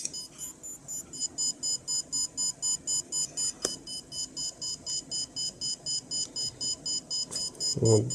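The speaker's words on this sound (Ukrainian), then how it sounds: "спрацювала сирена." A Geiger counter dosimeter's alarm sounds as a steady run of sharp, shrill electronic beeps, about two per second, repeating evenly and close by.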